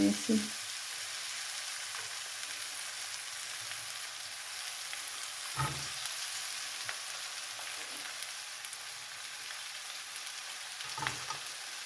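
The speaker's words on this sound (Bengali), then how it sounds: "আলু দিয়ে আমি কিছুক্ষণ ভেজে নেব আলুটাকে" Diced potatoes sizzle in oil in a pan while an aloo methi shak, fenugreek greens with potato, is cooked, a steady soft frying hiss with a few faint clinks of stirring.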